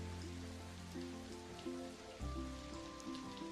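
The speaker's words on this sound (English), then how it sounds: "Really wish it was not raining right now, because it's really complicating matters." Rain in the video game Splatoon 3 patters as a soft, steady hiss beneath a tonal game music soundtrack, both fairly quiet.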